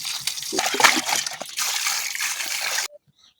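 Cut fish being washed by hand in water, with splashing and sloshing bursts for about three seconds before the sound stops abruptly, close and fairly loud.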